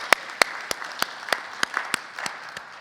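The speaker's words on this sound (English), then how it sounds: "So a round of applause for the panel." Scattered handclaps from a small group, uneven and fairly sparse, continuing for a few seconds with no talking.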